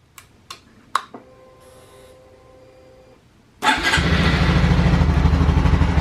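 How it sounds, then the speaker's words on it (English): Honda Super Cub motorcycle engine: a few clicks and a faint tone, then the engine cranks, catches and settles into a steady close idle that runs to the end. "Let's fire the bike up real quick."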